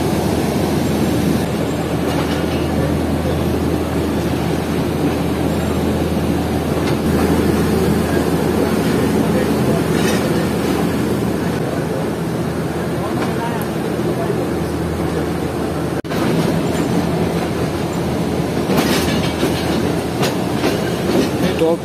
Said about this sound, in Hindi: ट्रेन यहाँ से निकलने के बाद रिहोड़ी के पहाड़ों में जाएगी